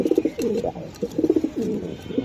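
A male pigeon coos nearby in quick, rhythmic bursts of soft, throaty, rolling calls, repeated several times with brief pauses.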